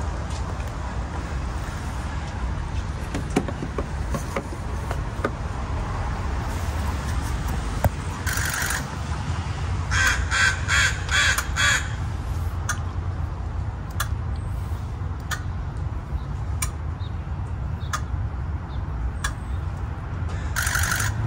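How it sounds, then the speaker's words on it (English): Fuel injectors on a car engine under test tick steadily against a continuous low engine hum, with a brief burst of rapid clicking around the middle and scattered sharper ticks throughout. "Okay, let's run the injectors."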